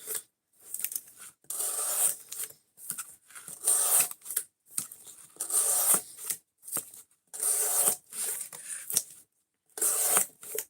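Knife edge rubbed in repeated strokes across cardboard to wear it down, giving dry scraping bursts of about a second each, separated by short pauses, close and fairly quiet.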